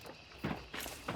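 Footsteps of another player in the game Hunt: Showdown, three short soft thuds spaced irregularly over a low steady ambient background, fairly faint and somewhat distant.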